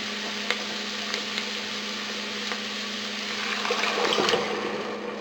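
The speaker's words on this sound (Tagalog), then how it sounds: "ilalagay na natin dito yung coconut milk" Coconut milk pours into a pan of softened onions for seafood cooked in coconut milk, a steady liquid gush that swells toward the end over a low hum, with a few light knocks early on.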